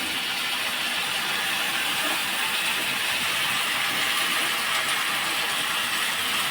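Malabar spinach leaves hit a hot pan and fry with a steady, loud, broadband sizzle that holds even and unbroken throughout, with no voices.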